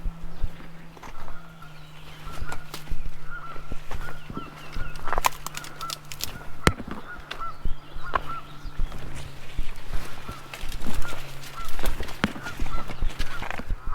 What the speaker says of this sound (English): Of course, we still have the noisy geese